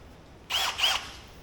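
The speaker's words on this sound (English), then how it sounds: "we're going to take and drill a hole" A drill boring a 5/16 hole into the crusty body of a 1999 Jeep Cherokee, heard as two short, loud high-pitched bursts of bit squeal close by with no talk.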